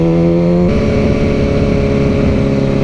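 A Mercedes SL65 AMG with a twin-turbo V12 revs loud and close. The low, rumbling engine note jumps in pitch early, then holds a rough, throbbing growl, with no voices.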